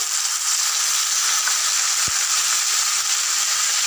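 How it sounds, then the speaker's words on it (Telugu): About half a kilo of tomatoes frying in a hot pan for tomato pachadi, a loud, even, close hiss and sizzle filling the whole stretch with one soft low knock midway, no voices. "ఇప్పుడు 1/2 కిలో దాకా టమాటాలు వేయాలి."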